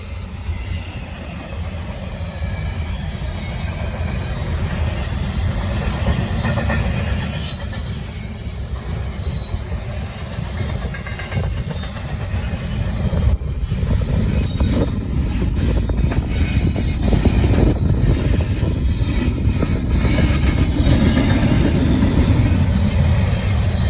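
A BNSF freight train rolls past on a Norfolk Southern line in the Charlotte District, a long, loud steady rumble of cars with rising low roar, rail clatter and occasional high wheel squeals, no talk.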